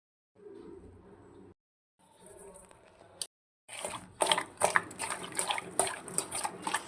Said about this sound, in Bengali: এই মাছটা এবার আমি ধুয়ে নেব।